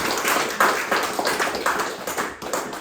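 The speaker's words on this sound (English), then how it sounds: "Can you clap your hands to the Lord again?" Church congregation clapping their hands together in a steady, fairly loud run of overlapping claps in a hall, with no speech over it.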